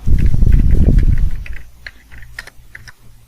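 A computer keyboard clatters as a short terminal command is typed, a quick burst of close keystrokes that thins into a few sparse taps, with no voice.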